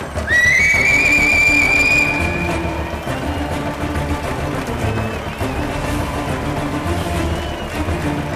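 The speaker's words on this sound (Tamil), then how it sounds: "இந்த விசில் சத்தத்தையும் கை தட்டல்களையும் கேட்கையில இன்ப தேன் வந்து பாயுது காதினிலே" A shrill audience whistle rises and wavers over dense clapping and cheering, fading after about two seconds while the applause carries on steadily and loudly.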